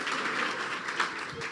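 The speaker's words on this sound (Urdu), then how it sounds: "اور تالیاں تسی بجائی جا رہے ہو" A church congregation claps during a sermon, producing a dense, continuous patter of many hands at moderate distance, steady and slightly muffled for a short burst with no clear pauses.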